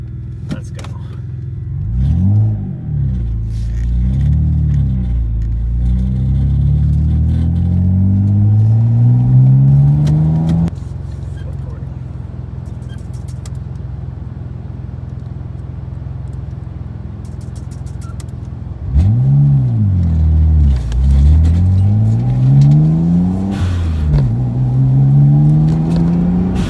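A Mitsubishi VR4 running on E85 fuel pulls hard on a road test, its engine rising through the gears in repeated climbing sweeps, settling into a steady cruise, then surging again; loud, close in-cabin rumble with some talk.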